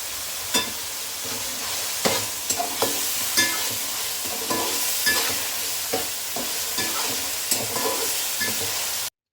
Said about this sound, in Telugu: ఇందులోనే మసాలా పేస్ట్ వేసుకున్నాం ఇందులో పచ్చిమిర్చి